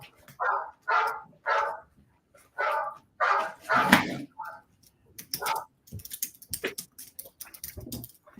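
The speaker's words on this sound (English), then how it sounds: "that's my phone barking." A phone ringtone of a dog barking, short bark bursts repeating in a steady rhythm, followed by a person talking.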